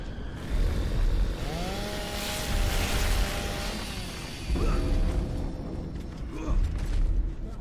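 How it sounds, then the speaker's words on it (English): Chainsaw grinding through flesh in Gears of War 2 on Xbox 360, a rough buzzing roar rising and falling in surges alongside mechanical creaks and game effects, with a voice briefly heard. "we gotta chainsaw all the arteries"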